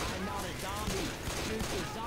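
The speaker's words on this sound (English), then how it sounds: "I'm getting shot at." Gunfire in the video game Left 4 Dead 2, a brief rapid burst of shots heard beneath a player's voice.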